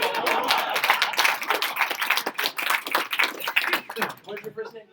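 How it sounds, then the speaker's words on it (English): Round of applause from a meeting audience at a business alliance gathering, dense clapping that fades out near the end as a voice begins. "Let's give her a round of applause."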